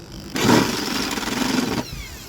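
Drill finishing a hole in thin car sheet metal on a Mazda MX-5 NC, a short close burst of rough motor whine lasting about a second and a half, with no talk.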